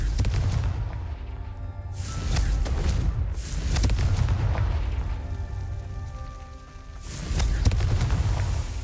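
Confringo spell explosions in the Hogwarts Legacy video game: deep booming blasts recur over a steady bed of game music and rumble, loud and continuous throughout, with no talk.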